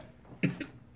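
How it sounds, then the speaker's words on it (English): Two short, soft coughs after eating ice cream during a fast-food meal, close to the microphone and quiet, followed by the start of a third. "every time I eat ice cream, sometimes I have to cough"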